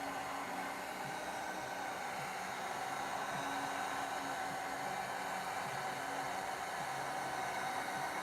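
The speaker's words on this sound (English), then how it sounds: "let's blow dry him" A hair dryer blows on a freshly primed painted figure, a constant close whooshing roar with an even hiss that holds steady from start to finish and no speech.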